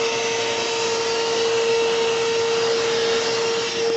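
An Armor All 2 horsepower shop vacuum blows air across a 392 Hemi engine bay, a loud, steady whine with an even motor hum throughout, close up and without talk.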